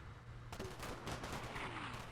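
Russian artillery fire in the war game Combat Mission: Black Sea, a sudden loud blast followed by a rumbling run of overlapping booms and crackle, fairly distant and faint overall.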